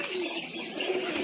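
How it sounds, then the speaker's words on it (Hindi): Four pet pigeons, two hens and two cocks, coo softly and continuously at close range, a low murmuring burble with no talk over it. "ये 4 कबूतर हैं दोस्तों, 2 मादी हैं 2 नर"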